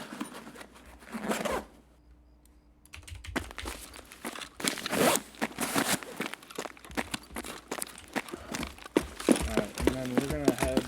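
A duffle bag is searched in Escape from Tarkov: a loud zipper pulls open near the start, then rustling, crinkling contents and footsteps follow, with someone talking over the later part.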